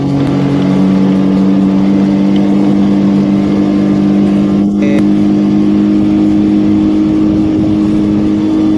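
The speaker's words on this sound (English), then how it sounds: "Let's push the engine hard." A loud Suzuki 40 outboard engine on a Ranieri Voyager 19S boat drones steadily at full throttle on a lake, a constant strong roar with no pause.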